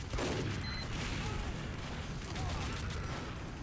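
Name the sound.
bomb explosion in a video game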